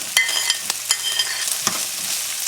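Chopped onions, garlic and green chili fry in a pan with a steady, bright sizzle, broken by several quick stirring scrapes close by. No one speaks.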